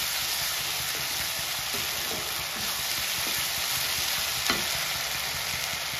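Spice masala for aloo dum being stir-fried in a pan, a steady loud sizzle and hiss with faint scraping stirs underneath, continuous and close, no voices.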